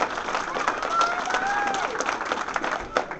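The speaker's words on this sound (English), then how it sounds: "Let's give a big round of applause." Audience applause for tournament medal winners, a steady wash of clapping from a crowd with some voices mixed in, moderately loud and sustained throughout.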